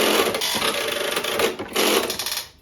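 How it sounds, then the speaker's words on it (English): Dense, rapid mechanical clattering and clicking from a working electromechanical telephone exchange, relays and switches chattering continuously, loud and close, with a brief dip before resuming, then fading out. "This is our working electromechanical telephone exchange that we built"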